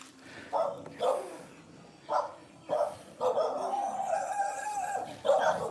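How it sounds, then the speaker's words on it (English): Several dogs at a Chumphon beach let out a few loud, close barks in short bursts, then a longer whining, yelping stretch, with people talking and laughing among them. "These dogs."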